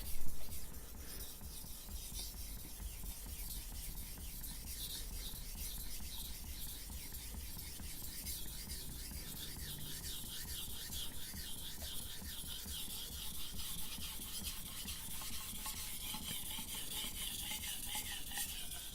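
A chef knife drawn steadily across a whetstone, giving a continuous close gritty rasping and scraping that runs without pause, with no talking.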